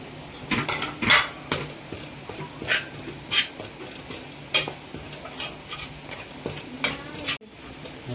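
Grated coconut dry-roasts in a pan while a spatula scrapes and stirs it, making repeated rhythmic scraping strokes that are close and moderately loud, with a clatter near the end.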